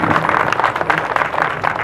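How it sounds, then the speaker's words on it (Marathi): Audience applause at a Marathi stage program of songs honoring Ramai, a dense, steady wash of clapping that holds at full strength for the whole stretch, with no voices over it. "जरा जोरदार टाळ्या वाजवून जोरदार"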